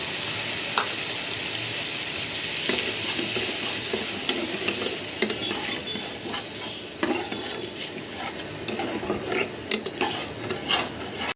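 Spice paste sizzles loudly in a pan with fried prawns for a prawn and pumpkin dish. A continuous close frying hiss runs throughout, broken by sharp scrapes and taps of stirring.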